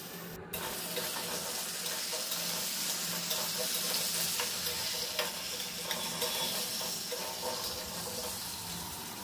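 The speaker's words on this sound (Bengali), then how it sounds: "তারপর কুমড়ো আলু দিয়ে একটু নাড়াচাড়া করে নেব।" Pumpkin and potato fry in a pan with black cumin and dried chili, giving a close, steady sizzle with occasional scraping stirs and no talking.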